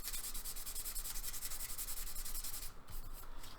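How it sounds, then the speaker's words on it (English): Fine abrasive scuffing the bonnet of a Jaguar E-Type before primer, a close, continuous rhythmic rubbing hiss with even back-and-forth strokes that pauses briefly near the end. "Dental rub over, just enough to put some scratches in it, some really fine scratches."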